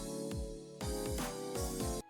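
A single electric piano chord is hit over and over with electronic drums, including punchy kick thumps, forming a short looping groove.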